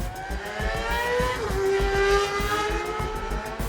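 Supersport motorcycles racing at the Isle of Man TT 2024, a high-revving engine whine climbing and shifting through gears, loud and close, with a steady low rumble underneath.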